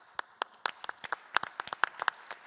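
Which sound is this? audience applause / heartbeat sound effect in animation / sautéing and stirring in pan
audience applause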